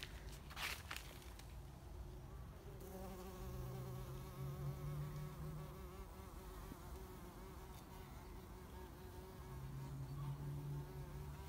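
A bumble bee flies near asparagus plants with a steady, low buzzing drone that lasts through the clip, rising and falling slightly as it moves, over faint outdoor background noise.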